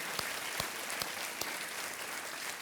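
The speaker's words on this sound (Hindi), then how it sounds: "देवियों और सज्जनों, तालियों के साथ एक बार फिर खुशबू सिंह जी का स्वागत किया जाए" A studio audience on the quiz show Kaun Banega Crorepati applauds to welcome a contestant, with steady, even clapping from many hands and no voices over it.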